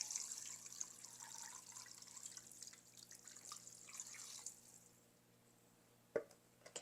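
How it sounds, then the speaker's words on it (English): A cooking pot is filled with water from a tap: a steady rushing hiss of flowing water for several seconds, then it stops and is followed by a sharp clunk of the pot. "So I'm gonna fill up with water."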